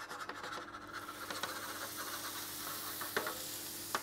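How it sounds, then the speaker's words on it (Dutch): Spiced meatballs frying on an oiled griddle plate give a soft continuous sizzle, with small scraping and stirring taps scattered through it and a few sharper clicks near the end, no talking. "Die gaan we mooi rustig bakken."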